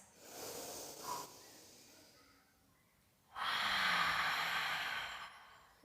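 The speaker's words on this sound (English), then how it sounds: "Two more breaths" Slow, deep breaths during an intermediate barre pilates workout: a long, airy exhale, a quiet stretch, then another long, louder breath, close and with no talking.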